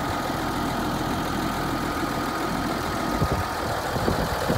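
A Massey Ferguson 3680 tractor idles outdoors, a steady low engine rumble that runs continuously with a few faint knocks near the end.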